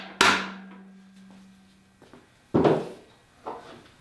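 An axle is tapped through the front wheel of an E-Cells Dual Kingstar electric scooter: three sharp, close strikes with pauses between them and a faint knock in one gap.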